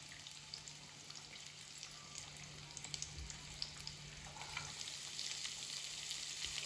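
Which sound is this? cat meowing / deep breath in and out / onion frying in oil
onion frying in oil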